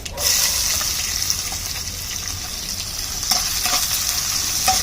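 Frying in a pan over a wood-fired stove while making rice-rava upma: a continuous close sizzle with occasional stirring scrapes, no talking.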